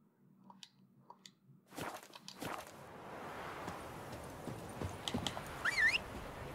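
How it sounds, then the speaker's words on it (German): A horse's hooves clop closer on the ground in The Witcher 3, a few soft scattered hoof thuds rising into a steadier trot amid quiet game ambience, with a brief faint whistle-like cue near the end. "mal gucken, ob das Pferd auch auf die Entfernung noch zu mir kommt"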